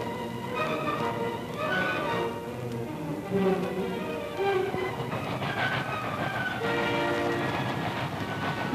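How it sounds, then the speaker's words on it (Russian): A train rumbles along steadily with rhythmic clattering and tonal horn-like blasts, loud and continuous throughout. "Подходят последние поезда."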